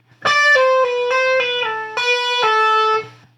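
An electric guitar plays a short melodic lick of sustained notes, sliding and hammering between pitches, with a bright, slightly distorted tone.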